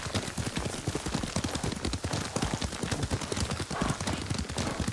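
Rapid, rhythmic clip-clop of horse hooves at a gallop in Ghost of Tsushima, close and steady throughout.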